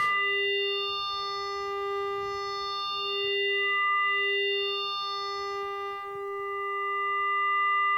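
A Buchla 259e modular synthesizer oscillator at full warp: a sustained, buzzy tone with a steady pitch and bright stacked overtones, shimmering slightly as its timbre shifts, playing alone without any talking.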